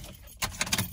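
Car keys jangle in a short metallic burst of several quick clinks, close and fairly loud, lasting about half a second.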